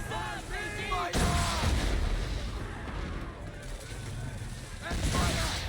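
Ship cannons firing in the video game Assassin's Creed III, heavy booming blasts rolling into sustained rumble, loud and close, with shouted commands in game voices over the barrage.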